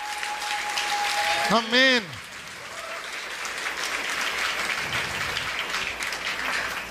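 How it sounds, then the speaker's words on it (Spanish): A church congregation at a worship celebration breaks into loud, sustained applause and cheering right after a voice speaks briefly, the clapping continuing steadily to the end. "Dale un fuerte aplauso al Rey de Reyes."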